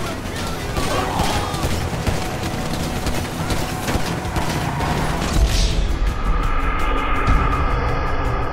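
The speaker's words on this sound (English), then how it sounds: "Shoot that gun, kid!" Rapid gunfire in Grand Theft Auto V rattles densely and loudly throughout, with vehicle or engine rumble in the mix and a brighter shift near the end.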